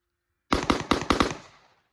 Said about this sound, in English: So, about to let some bullets fly.